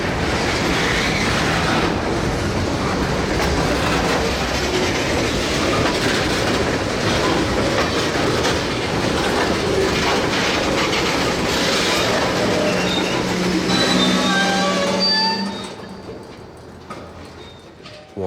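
A freight train hauled by Alco diesel locomotives rolls steadily through Scranton Yard with a continuous loud rumble and rhythmic clickety-clack of wheels, fading slightly at the end.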